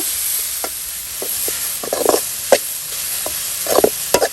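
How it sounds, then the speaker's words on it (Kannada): Grated carrot roasting in ghee in a pan, a soft steady sizzle broken by scattered spoon scrapes and stirring taps, close and fairly quiet with no voices. "ಒಳ್ಳೆ ರೀತಿಯಲ್ಲಿ ತುಪ್ಪದಲ್ಲಿ ನಾವು ಇದನ್ನ ರೋಸ್ಟ್ ಮಾಡುವ"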